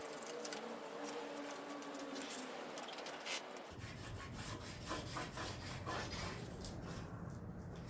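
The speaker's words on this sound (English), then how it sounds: "I decided that the Sawzall would work better, so I got a solid power stance and just pushed that thing through the metal" A Sawzall reciprocating saw cuts through steel plate for a car diffuser, starting after a quieter rasping stretch and then running as a continuous, harsh, buzzing grind at close range until the end.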